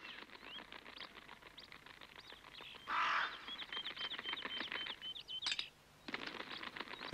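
Cartoon crows beat their wings in a quick, steady flutter as they fly off, with a short burst of louder flapping midway and a brief gap near the end.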